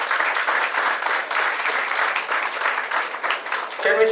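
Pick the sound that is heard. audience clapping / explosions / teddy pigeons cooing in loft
audience clapping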